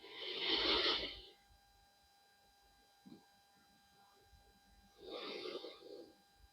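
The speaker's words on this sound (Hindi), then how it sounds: "ये सांसों की आवाज जो आपको आ रही है" Slow meditation breathing near the microphone: two long, soft airy breaths with a quiet pause and a faint small sound between them, over a steady low hum.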